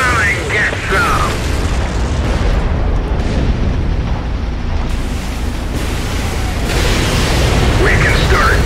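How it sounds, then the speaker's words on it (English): Battlefield gunfire and explosive booms from the World War II strategy game Codename: Panzers, a loud, continuous wash of combat noise with bursts and rumbling, and voices speaking over it. "Someone's shooting at us."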